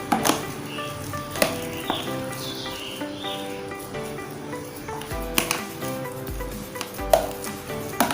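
A spoon stirs a seasoned mashed-potato mixture for potato balls in a pan, giving soft scraping with a few sharp clinks against the metal over a light background sizzle.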